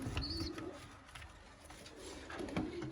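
Yellow Mülemas pigeons cooing in a loft, soft low coos rising and falling over a steady background hum, fairly faint, with a brief higher chirp early on.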